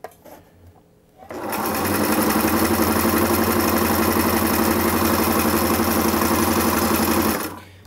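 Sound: Singer Inspiration sewing machine stitching doubled fabric

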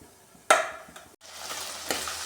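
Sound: tempering of cumin, ginger, garlic, onion frying in oil

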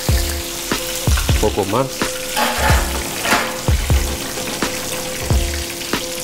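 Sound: fish frying in oil

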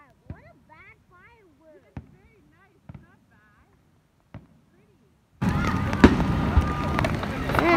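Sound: Canada Day fireworks popping at Niagara Falls

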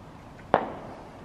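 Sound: fireworks exploding

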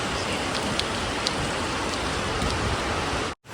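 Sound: heavy rain falling

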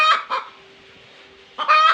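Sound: chickens clucking in a backyard coop

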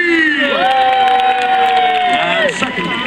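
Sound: crowd cheering for a jousting knight

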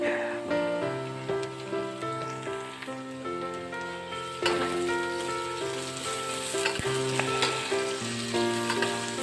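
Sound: onions frying with potatoes in oil

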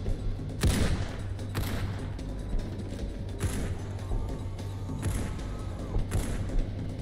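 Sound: gunfire in a video game battle

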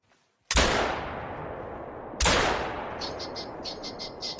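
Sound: rifle gunshots in video game theHunter: Call of the Wild

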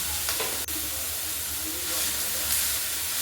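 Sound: cut pointed gourd (potol) frying in a pan

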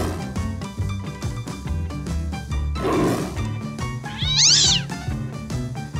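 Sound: cat meowing

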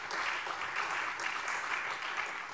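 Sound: applause in parliament

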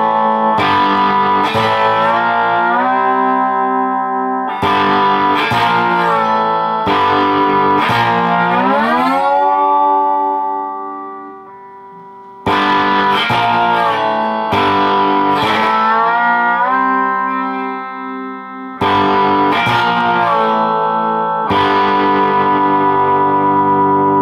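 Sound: electric guitar playing an intro riff

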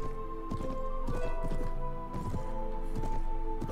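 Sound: horse hooves while riding in the video game Mount & Blade Warband

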